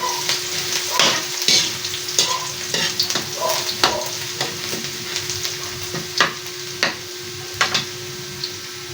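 Garlic sautéing in hot oil for a Bicol-style dinuguan gives a steady, close sizzle, broken by regular scraping and clacking as a spatula stirs the pan, with no talking.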